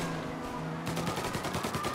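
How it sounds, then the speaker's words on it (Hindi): Rapid bursts of gunfire in a bank-robbery shootout from the video game Mafia Definitive Edition, a dense run of repeated shots that starts abruptly partway through and continues steadily over a game soundtrack. "गोली चला रहा है।"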